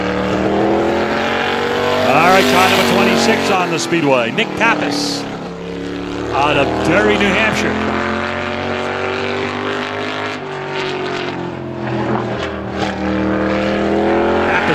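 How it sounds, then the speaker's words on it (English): A 350 Super modified race car roars around Star Speedway during time trials, its engine note rising and falling through the corners while an announcer talks over it throughout. "All right, car number 26 on the speedway"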